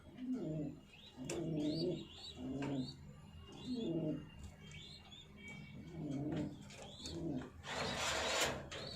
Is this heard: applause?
no